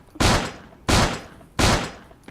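Three loud revolver shots from the video game Creative Destruction, evenly spaced about two-thirds of a second apart, each a sharp blast with a short decaying tail.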